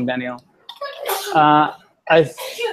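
A single sneeze bursts out among speech in an online meeting, with voices talking before and after it.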